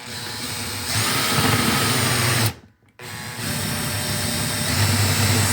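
A power drill driving a 3D printer spool winder whirs loudly and steadily close by, stops abruptly for a moment, then spins up again and keeps running.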